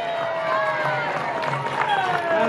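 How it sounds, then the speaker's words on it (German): A crowd cheers and claps at the Schluderns knights' games in 2023, broad outdoor noise with whistles and shouts over steady applause, while people talk underneath. "Jubel!"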